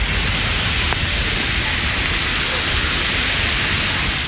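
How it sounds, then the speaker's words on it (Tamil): Heavy rain pours down in Tamil Nadu as a dense, unbroken roar of water, loud and steady throughout with no voices. "1 மணி நேரம் கனமழை கொட்டி தீர்த்தது"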